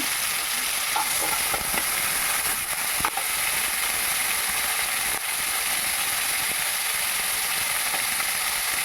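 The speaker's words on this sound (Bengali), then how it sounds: "দিয়ে দিচ্ছি কুচিয়ে রাখা পেঁয়াজ" Chopped onions, about five, hitting hot oil in a kadai for a green pea ghugni, giving a steady close broadband sizzle with scattered stirring clicks and scrapes throughout, no voices.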